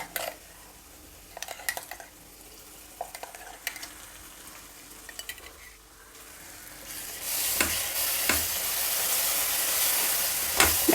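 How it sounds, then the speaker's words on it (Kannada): Turmeric, salt and a ground paste frying in a hot tempering, with soft stirring scrapes and light taps at first, then a louder steady sizzle and hiss swelling toward the end, with no talk. "ಈಗ ಇದರಲ್ಲಿ ಅರಿಶಿನ ಹಾಕ್ತಾಯಿದ್ದೀನಿ, ಅರಿಶಿನದ ಪುಡಿ, ಉಪ್ಪು 1-2 ಟೀ ಸ್ಪೂನಷ್ಟು ಉಪ್ಪು, ಮತ್ತು ರುಬ್ಕೊಂಡಿರೋ ಈ ಮಿಶ್ರಣ."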